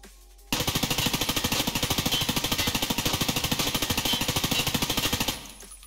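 An HK416 rifle fires on full auto in the video game Escape From Tarkov, a sustained rapid burst of evenly spaced, loud, punchy shots lasting about five seconds before stopping abruptly, with no voices.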